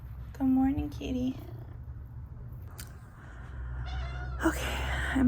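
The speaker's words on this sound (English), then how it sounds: "Good morning, kitty." A house cat meows close by in a few drawn-out, rising cries at the start, followed by soft purring and rustling while a person speaks nearby.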